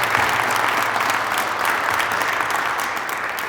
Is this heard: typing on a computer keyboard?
no